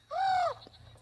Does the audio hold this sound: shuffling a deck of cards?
no